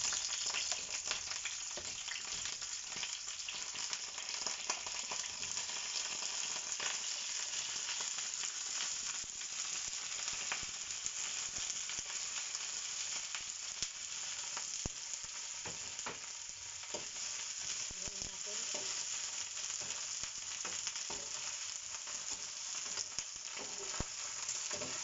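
Eggplant sizzling steadily in hot oil in a pan while cooking beef kare-kare, a continuous bright crackle that holds close and even throughout with no talking.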